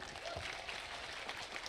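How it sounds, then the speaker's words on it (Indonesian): Applause for Kak Igun from an audience, a faint, steady wash of many hands clapping that runs through the whole short stretch with voices mixed in. "tepuk tangan untuk Kak Igun"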